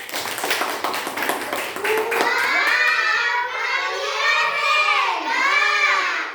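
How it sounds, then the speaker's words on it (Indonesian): Classroom of children clapping and shouting together after a group presentation, the dense applause rising into excited young voices that carry on loudly to the end. "Kita kasih aplaus."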